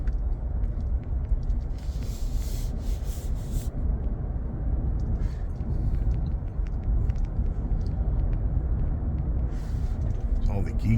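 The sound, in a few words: truck driving over bumpy road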